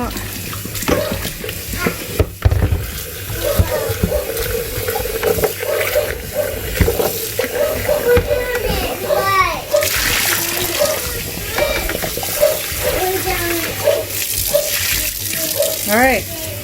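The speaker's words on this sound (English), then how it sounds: "Give the lid a quick rinse." Blender lid rinsed under a running kitchen tap, steady splashing water hitting plastic with irregular splatters as the lid is turned, close and fairly loud, with a voice talking over it.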